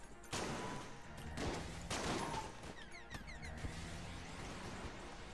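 Rapid volleys of gunfire in the Enter the Gungeon video game, with bursts of shots, repeated cracks and clattering effects layered densely over a busy game soundtrack.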